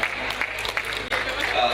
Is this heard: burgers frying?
no